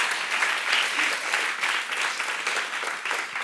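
An audience claps together in a sustained, even round of applause, a dense close patter of many hands that keeps a steady level throughout.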